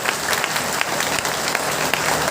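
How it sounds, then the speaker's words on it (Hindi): Crowd at a political rally in Uttar Pradesh clapping loudly and continuously, a dense close patter of many hands with a few sharper claps standing out. "तालियां बजाइए।"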